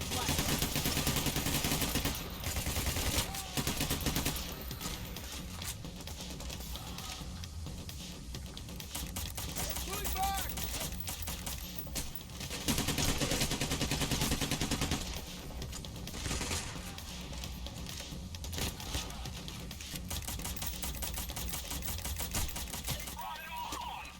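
Dense gunfire from the game PayDay: The Heist, sustained automatic bursts almost without a break at a steady moderate level, with game sounds layered in and a few short pauses.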